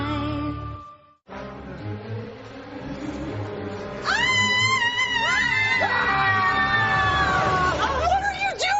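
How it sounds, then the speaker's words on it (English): During a soap opera scene a woman lets out a long, loud, wavering scream that rises and falls over several seconds, cutting above a busy background of music and voices. "don't scream like that"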